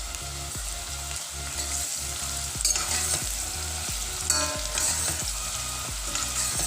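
Onions frying with crushed ginger and garlic in a pan give a steady close sizzle with a few sharper stirring scrapes, over a rhythmic music bed.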